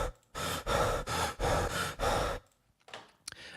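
Looped breathing effects: five strong, evenly spaced breaths in quick succession, close and loud, followed by softer, fainter breathy sounds trailing off.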